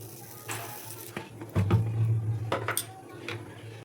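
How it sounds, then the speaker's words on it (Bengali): Cooking oil is poured into a hot kadai (wok) on a home kitchen stove, with a few metallic clanks of the pan and a brief burst of sizzle partway through. "কড়াইতে দিয়ে দিচ্ছি তেল।"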